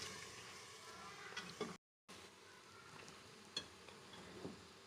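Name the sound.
beef frying with ginger and garlic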